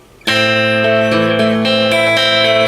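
Plucked guitar notes ring out one after another in a picked pattern, each new string sounding over the sustain of the last, clear and close.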